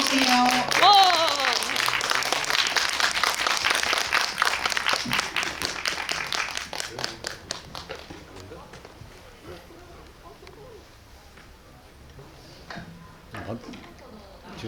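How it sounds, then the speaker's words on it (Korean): Loud crowd applause and cheering greet guests arriving for a guest-visit screening at a CGV cinema hall in Yongsan, with broadband clapping dense at first, then thinning and fading out while voices chatter. "큰 박수로 맞아주세요."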